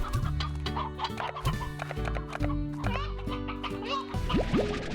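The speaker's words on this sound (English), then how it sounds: "We've got to get a bunch of chickens so we can feed" Chickens and roosters in the game Slime Rancher cluck repeatedly in a busy layered flock, with bright squawks and game music tones underneath.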